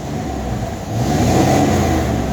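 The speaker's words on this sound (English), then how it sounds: "He fixed his exhaust on an old pickup truck." An old pickup truck's engine idles with a rough, throaty exhaust rumble, then revs up louder and holds a steady growl nearby.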